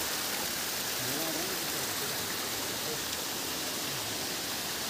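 Mountain streams rush steadily along a rough hillside path, a continuous broad wash of flowing water with no breaks and faint indistinct voices buried underneath.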